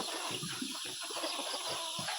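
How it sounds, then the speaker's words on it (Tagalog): Chickens in a backyard coop cluck softly in short, scattered calls against a faint, steady background hiss. "Ito po yung ating munting manukan."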